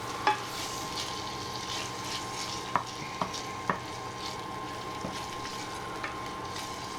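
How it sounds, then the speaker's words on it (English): Sticky bacon fries over medium heat in a pan with a steady close sizzle, while a utensil stirring it adds a few sharp scraping clicks. "we're going to fry this at a medium heat for about 5 minutes"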